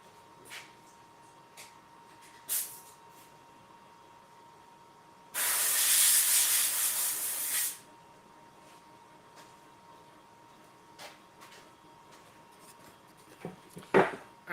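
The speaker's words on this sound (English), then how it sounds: "Let me go blow it off right quick." Compressed air blowing sanding dust off a laser-engraved wooden piece, a steady loud hiss lasting a couple of seconds, set among quiet workshop clicks and knocks.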